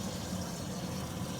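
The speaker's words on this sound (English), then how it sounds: "I'm trying to get a bunch of water to come through here to flush this out" Water from a running bathtub rushes steadily through a drain pipe, a constant broadband whoosh with no pauses or voices.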